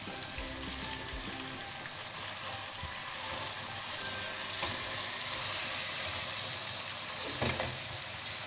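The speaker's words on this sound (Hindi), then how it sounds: "अच्छा से हम इसको भून देंगे हड्डियों के साथ" Meat bones fry in a pot for haddi guddi salan with a continuous soft sizzle and crackle at close range, with a faint knock near the end.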